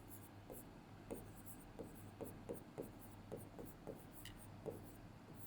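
Chalk or marker strokes on a board during a maths lesson: a steady series of short, distinct taps and scrapes about every half second, close and fairly quiet over a low hum, no talking.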